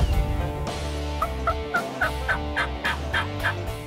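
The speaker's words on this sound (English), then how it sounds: "Turkey right here. Well, we got a hen coming in, Henrietta." Wild turkey hen calling during a spring hunt on a farm, a series of short, evenly spaced yelps rising over steady low background noise, fairly close and clear.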